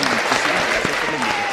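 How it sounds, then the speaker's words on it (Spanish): A studio audience bursts into loud, dense applause for a doctor guest, steady throughout and mixed with voices talking over the clapping. "Un aplauso para el doctor."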